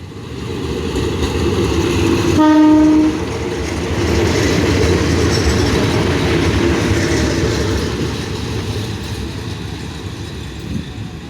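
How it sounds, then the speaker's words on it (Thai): Two-car diesel railcar train 355 rolls into Salaya station, a brief horn blast followed by a steady, loud rumble of engine and wheels on the rails that slowly fades. "เป็นขบวน 355 นะครับ ชุมทางบางซื่อสารยานะครับ มาแล้วนะครับ ดีเซลาง 2 ตู้"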